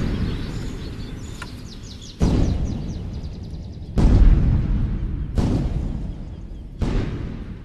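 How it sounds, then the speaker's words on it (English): Several heavy dynamite blasts in a nearby quarry go off one after another, each with a sharp onset and long rumbling decay, with birds chirping faintly between them. "dynamite is detonated in the nearby quarry."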